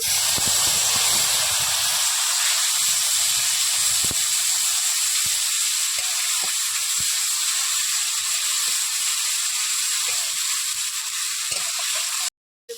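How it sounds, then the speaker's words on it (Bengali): A spice paste of whole cumin and dried red chili powder cooks in a pan for a Bengali fish curry, giving a steady close hiss with a few faint stirring clicks, then cutting off abruptly near the end. "এবার মশলাটা দিয়ে আমি ভালো করে কষে নেব।"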